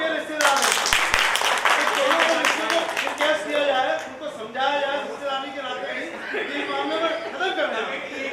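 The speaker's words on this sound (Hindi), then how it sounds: "अरे ताली बजाओ।" A meeting audience of the Akhil Bhartiya Palliwaal Jain Mahasabha breaks into brisk clapping for a few seconds, which then gives way to murmured chatter and light laughter from people in the room.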